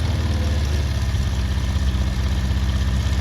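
A Honda CB400 Four motorcycle engine idles close by with a steady, low throbbing rumble and no break, and no voices are heard.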